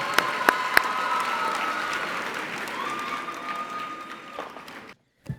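At a high school awards ceremony, the audience gives award winners a warm round of applause, steady dense clapping with a few sharp nearby claps, fading and cutting off near the end.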